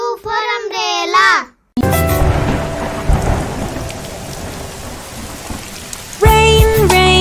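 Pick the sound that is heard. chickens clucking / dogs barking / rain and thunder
rain and thunder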